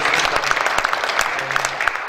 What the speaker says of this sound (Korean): 뜨거운 마음으로 박수 한번 주시면 감사하겠습니다.